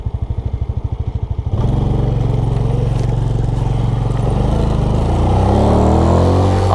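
A small Yamaha motorcycle on a ride in Thailand chugs at a steady idle pulse, then the engine picks up and drones loudly, its pitch climbing as it accelerates, close and continuous.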